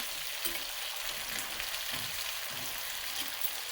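Carrot, onion and tomato frying in a pan and being stirred, a soft continuous sizzle with faint, irregular stirring scrapes, fairly quiet and without speech.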